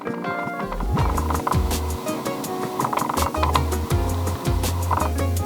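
A small autofocus motor in a Tamron lens whirs and buzzes in short repeated bursts with clicks, hunting back and forth, heard close up.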